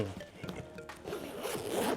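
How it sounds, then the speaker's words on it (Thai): A YKK zipper on a piece of Comme des Garçons clothing is pulled, producing a quiet close-up ratcheting rasp in short uneven strokes. "นี่ซิป"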